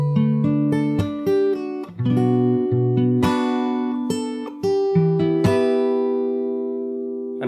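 Fingerstyle acoustic guitar plays a passage from a song: plucked bass notes and melody with several percussive slapped chords that ring between phrases. It is close and steady, with no voices.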